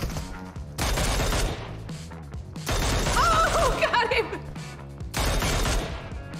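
Minigun fire in a video game, heard as three long, loud bursts of rapid, continuous shots separated by short pauses, with crashing impacts mixed in.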